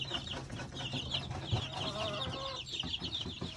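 Farm chickens in a poultry pen cluck continuously, several birds overlapping at close range in a steady, busy chatter.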